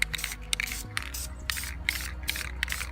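Paint sprays in short hissing bursts onto refurbished Audi 2.7 turbo coolant lines laid over cardboard, an even rhythm of close aerosol puffs over steady background noise.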